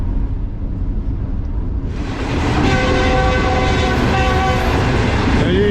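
A Green Line passenger train rolls along through Gujarat, a steady low rumble of carriages that swells into loud running noise with a sustained horn tone partway through, heard close from on board.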